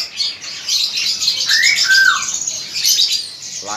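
Songbirds in an imported-bird shop chirp and tweet in a dense, continuous chorus, with a few louder whistled calls standing out near the middle, and no talking.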